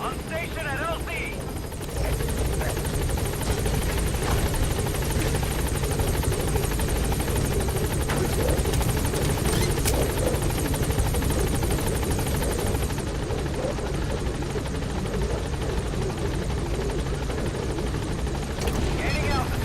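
A support helicopter arriving at a landing zone in Metal Gear Solid V, loud continuous rotor thumping and turbine whine dominating throughout, with a radio voice speaking over it.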